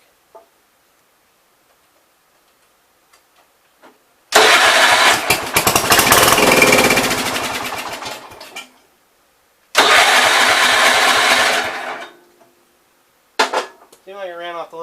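A 1970 all-white Gravely 408 tractor's engine is cranked and fires, running loudly for several seconds before dying away, then catches again for a shorter burst and quits, with a brief third attempt and a voice at the end.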